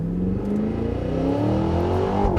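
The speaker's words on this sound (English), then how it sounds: "So in the name of science, I'm turning traction and stability off to do a launch" A 2023 Cadillac Escalade V engine revs hard during a launch with traction and stability control off, a loud continuous roar climbing steadily in pitch with no talk over it.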